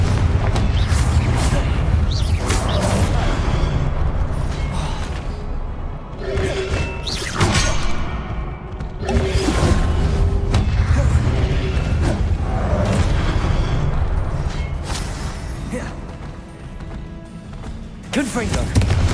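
Repeated Confringo blasting curse explosions in the Hogwarts Legacy video game boom and crash in dense, overlapping bursts with whooshing debris, alongside shouted spell incantations throughout.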